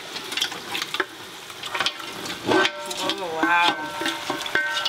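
Meat fries and gets stirred into a pot of Liberian potato greens, giving a close sizzle with scraping and clinking strokes of the spoon, while a voice briefly exclaims.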